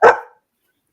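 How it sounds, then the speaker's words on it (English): A single sharp bark from a dog, close and loud, quickly fading into silence. "You don't need to bark at me like that and tell me off."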